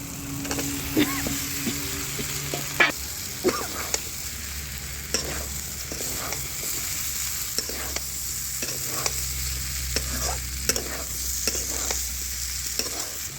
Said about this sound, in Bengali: এবার বন্ধুরা, মশলার ওপর আগে থেকে ভেজে রাখা আলুগুলো দিয়ে কষিয়ে নেব